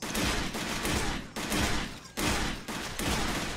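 Rapid bursts of gunfire in the video game Rainbow Six Vegas, several loud volleys of overlapping shots separated by brief pauses, no talking.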